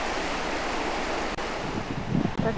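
Atlantic Ocean waves along the Norwegian coast wash in as a steady broadband roar with wind buffeting the microphone, and a slightly louder surge of surf rises near the end; no one speaks.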